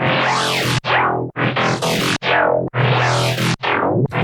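Distorted bass synth in a neurofunk track with internal distortion on it, playing loud rhythmic notes that sweep upward and cut off sharply, roughly five phrases in quick succession with no voices.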